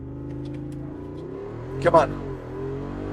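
A Jeep Wrangler Rubicon 392 with its V8 launches hard, the engine rising in a short burst of revving acceleration over steady cabin rumble, while a voice speaks briefly in the car.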